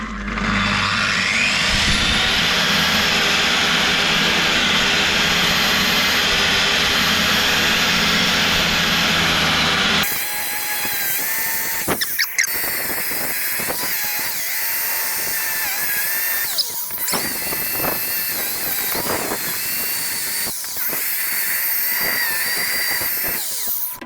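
A power drill spins a polishing attachment against a 1955 Chevrolet Nomad wheel, buffing it to a mirror finish. A loud, steady high whine runs for the first ten seconds. Then comes a rougher, uneven stretch of buffing and rubbing noise with brief bursts, and no talk.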